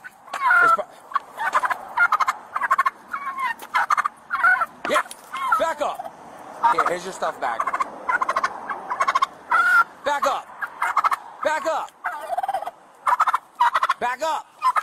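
Turkeys gobble again and again in loud, close bursts during a Florida traffic stop, while someone speaks in short phrases between the calls and a dog yips faintly.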